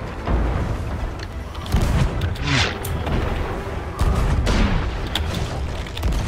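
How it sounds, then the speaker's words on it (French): Several heavy booms of cannon fire with rumbling low thuds, spaced irregularly amid game background noise. "Préparez le canon de gauche."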